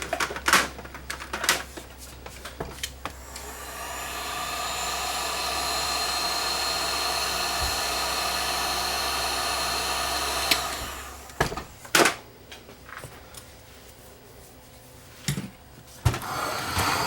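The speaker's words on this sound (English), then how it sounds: "Heat shrink tubing over top of it. We'll blast it with some hot air." A hot air gun blows steadily for about seven seconds as it shrinks heat shrink tubing over spliced wires during a JVC RX-9V receiver repair, a continuous broadband hiss framed by clicks and handling knocks before and after.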